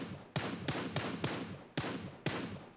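Six gunshots ring out in PUBG Mobile, spaced at a steady interval, each a loud close crack with a short ringing tail.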